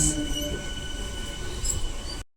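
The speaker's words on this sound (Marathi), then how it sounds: "तर चला आपण जाऊ आता लोकल ट्रेनने." A local train runs on the rails near Chennai, a loud, close, continuous rumble with metallic wheel squeal and hum, ending abruptly.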